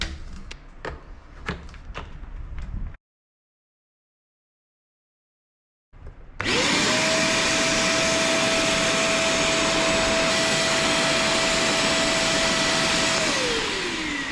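A PowerPac PPV1300 wet vacuum cleaner: a few light taps and a silent pause, then the motor starts up close and loud, holding a steady roaring whine with a clear tone until the end.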